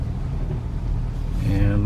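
A Ford Fusion drives on the road after a front-left outer tie rod replacement, heard from inside as a steady low road rumble, with a voice starting to talk near the end.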